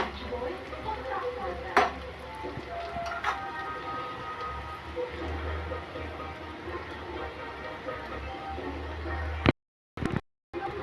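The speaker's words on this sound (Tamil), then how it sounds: "வெங்காயம் நல்லா வதங்கணும் அது வரல வெயிட் பண்ணுவோம்" Onions sauté in a pan with a low, continuous sizzle and occasional stirring clinks, fairly quiet and steady, with two brief dropouts near the end.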